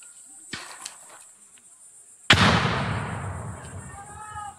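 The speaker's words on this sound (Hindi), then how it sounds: "पूरा लेफ्ट साइड फायर अभी भी हो रहा है" Gunfire in a forest firefight: a few faint, distant pops come first, then a single sharp, loud burst with a long rumbling decay, while someone narrates over it.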